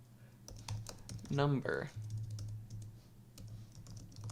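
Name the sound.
typing on a computer keyboard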